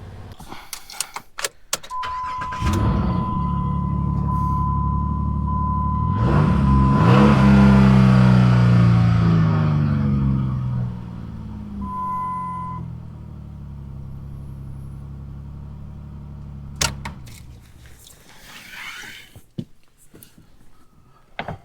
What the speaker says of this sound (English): the engine is running just fine